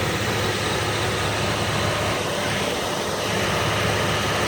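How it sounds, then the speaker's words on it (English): A Jeep Liberty 3.7 V6 idles after a top end rebuild, a steady, even low hum with no change in rhythm and no voices. "this is the final result of the engine running"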